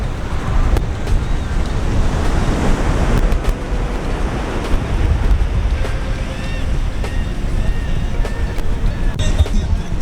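Surf rolling onto the beach at Playa del Tule in Puerto Vallarta's hotel zone, a loud continuous rush of breaking waves mixed with gusting wind noise on the microphone.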